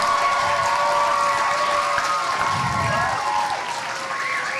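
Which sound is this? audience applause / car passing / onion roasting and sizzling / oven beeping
audience applause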